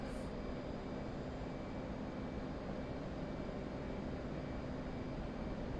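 Steady, even roar of an F-18 jet engine flying and turning in the DCS flight simulator, a constant cockpit drone without change or other sounds.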